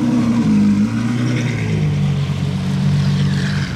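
A blue Pagani Huayra Roadster with a Novitec exhaust, its engine giving a loud, steady low drone with a slight rise and fall in pitch, close by and without talk.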